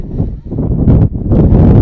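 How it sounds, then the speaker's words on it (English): Strong gusts roar into an outdoor microphone at a windy evening high school girls' soccer game, a loud, continuous low rumble that swells and buffets throughout. "It is really windy and it's out of the southeast"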